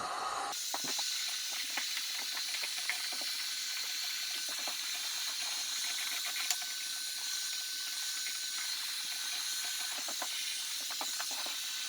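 A heat gun blows a steady, loud hiss throughout while vinyl wrap is pressed onto a bike part, with small scattered clicks and faint mechanical ticks beneath the constant rush of air.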